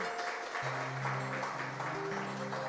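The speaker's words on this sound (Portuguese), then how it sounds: "Dar uma forte salva de palmas ao nosso Deus Todo-Poderoso." A church congregation claps together in praise, a dense, continuous patter of applause with an organ or keyboard holding sustained chords underneath.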